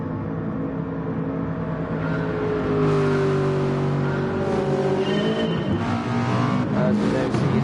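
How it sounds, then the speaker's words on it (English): GT4 race cars pull away from the grid at a race start at the Red Bull Ring. Several engines rise together in pitch, revving hard and loud close by, with overlapping tones and gear changes. "As we now see Heinheim leading the grid away to turn 1"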